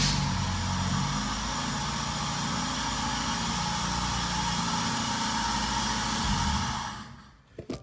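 A Ford Focus engine idles unevenly, a steady broadband hum with a low, wavering rumble running for several seconds before cutting off abruptly, followed by a couple of faint clicks.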